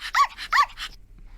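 A dog barks twice in sharp, close succession, then gives a shorter third bark, loud and alone against a faint low hum.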